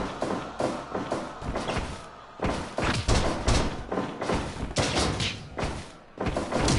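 Repeated heavy thuds and slams as action wrestling figures are smashed down in a double power bomb, a series of loud close impacts with brief gaps between them.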